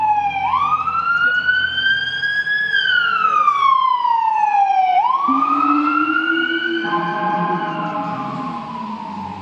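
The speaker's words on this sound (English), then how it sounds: "There it is. There's an ambulance." An ambulance siren wails up and down loudly and close, its rising and falling tone sweeping repeatedly, with traffic rumble beneath.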